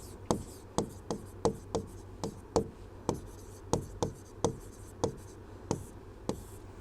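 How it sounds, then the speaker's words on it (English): Pen writing by hand on paper during a biology lesson: a steady series of about fifteen short, crisp strokes and taps, close and fairly quiet, with no talking. "I'll write it here."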